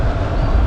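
A passenger train on the Trichy to Villupuram line pulls into Srirangam station, giving a loud, steady, close rumble of rolling wheels and carriages.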